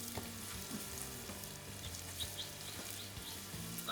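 Coconut milk, garlic, herbs and ginger sizzle and fry on a flat-top griddle, a steady close crackling hiss with faint stirring, no voices.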